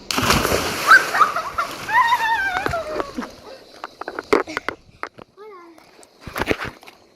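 Water splashes and sloshes loudly as people get into the water, with several irregular splashes amid children's excited voices and talking.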